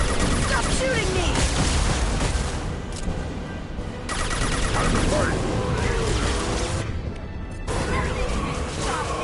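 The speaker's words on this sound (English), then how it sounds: "Stop shooting me!" Dense, continuous gunfire and crashing explosions fill a video game battle, loud bursts layered over one another with voices shouting beneath the din.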